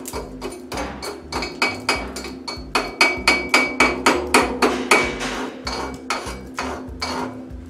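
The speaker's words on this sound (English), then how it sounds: "Go ahead and chip the slag off." Chipping hammer knocking slag off a fresh stainless steel weld. Close, sharp metallic taps come in a steady rapid series of about two dozen strikes, alone, with a slight ringing.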